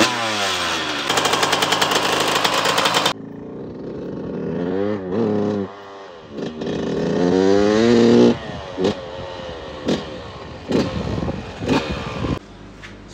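A 2000 Yamaha YZ125 two-stroke dirt bike runs, starting with a loud buzzing rev. It then falls to rising and falling revs with uneven, hesitant bursts and sharp pops, close by and with no talking.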